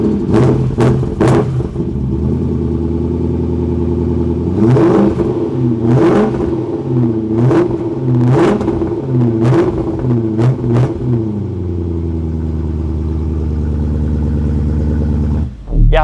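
A Porsche Cayman engine, taken out of winter storage, cranks and fires, then revs in a series of sharp, loud blips over a steady idle before settling back down. It is close and loud throughout, with a final burst at the end.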